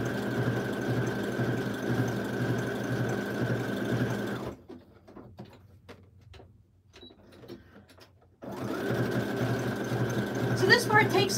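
A sewing machine stitching fabric scraps for mug rugs and fabric postcards hums steadily and close for about four seconds, stops briefly, then starts running again, with a voice talking faintly in the background.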